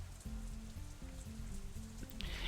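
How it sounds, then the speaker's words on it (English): Light drizzle in the visual novel Katawa Shoujo, a soft steady patter of raindrops over a low droning ambient bed, with a brief brighter spatter near the end. "It's hardly even a drizzle now"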